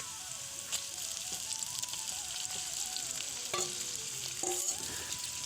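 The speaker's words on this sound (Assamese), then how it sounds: "আমাৰ পিঁয়াজটো সিজি গৈছে, লগতে মই মাংসটো দি দিম।" Pork meat going into hot oil with browning onions, a continuous close sizzle and crackle with a few louder bursts and clinks of a ladle against the pan, no voices.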